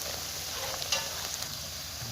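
Ginger frying in a pan for fish curry, a low continuous sizzle with one brief clink of stirring, quiet and close with no voices.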